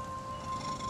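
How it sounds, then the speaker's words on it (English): Soft, continuous low purring from a cat, close and quiet, lasting under a second. "He's purring."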